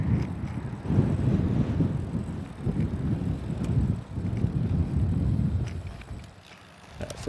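Gusty wind blowing outdoors near a roadside intersection, a steady low rumbling buffet that swells and eases over several seconds, with no talk.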